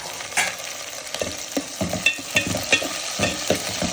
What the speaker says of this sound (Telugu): ఆనియన్, టమాటా, కల్లెమాకు, పుదీనా, కొంచెం కొత్తిమీర అన్నీ వేసి బాగా కలుపుకోవాలి.